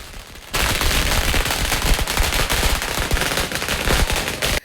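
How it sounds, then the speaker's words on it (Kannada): Firecrackers bursting at an election victory celebration, a dense, loud, rapid crackle of explosions like a string of bangers, continuous and close from just after the start to the end. "ಕೂಗಿ ಪಟಾಕಿ ಸಿಡಿಸಿ ಸಂಭ್ರಮಿಸಿದರು."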